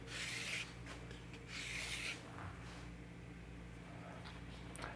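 A blade edge is honed on a coarse sharpening stone in quiet, rhythmic scraping strokes, with two clearer rasping passes near the start followed by softer rubbing.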